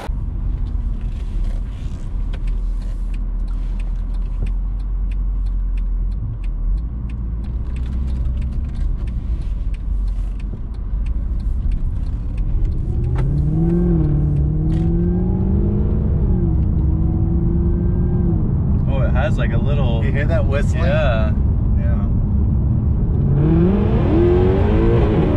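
Supercharged Mercedes C63 AMG driven with traction control off at three-quarter throttle, tires breaking loose: a steady loud engine drone builds into rising, revving sweeps of exhaust and supercharger pitch, heard up close from the cabin.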